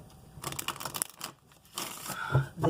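Tarot cards rustle and riffle close by in quick papery bursts, with a short pause before more shuffling resumes.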